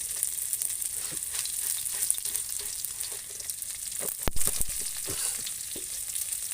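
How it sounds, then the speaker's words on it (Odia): Dried red chillies and onion sizzling in hot oil for a curry, a steady frying crackle with intermittent stirring clatters and a sharp utensil knock midway, close and fairly quiet, no talk. "ତେଲ, ଶୁଖିଲା ଲଙ୍କା, ପିଆଜ ପକାଇ ଦେଇକି କ'ଣ ଦେଖି ତରକାରୀ କରୁଛନ୍ତି।"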